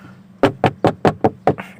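Six sharp, evenly spaced knocks sound close and loud, imitating a ghost stomping on a roof, in a steady rapid rhythm with no talking.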